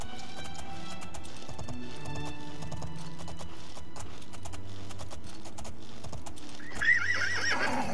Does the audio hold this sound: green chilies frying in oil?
no